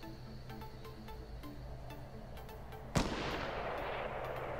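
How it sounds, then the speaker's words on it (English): Gunfire from another player in an online shooter game, a sharp loud shot or burst cutting in partway through amid steady rhythmic game sounds, followed by a wash of noisy rumble. "That's someone else shooting"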